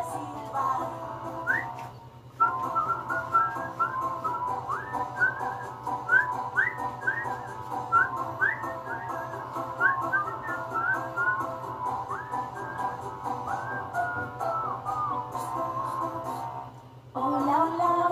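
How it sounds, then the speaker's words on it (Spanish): Someone whistles a lively melody for a children's song, clear and close, over a steady musical backing, with a brief pause before the tune carries on. "Vamos a silbar."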